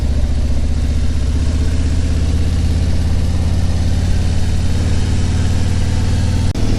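A new Harley motorcycle engine running steadily up close, a loud, deep, even rumble with a low throbbing pulse that holds without a break.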